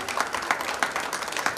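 A crowd at a government high school alumni reunion claps in welcome for a teacher, a dense, lively burst of applause heard up close.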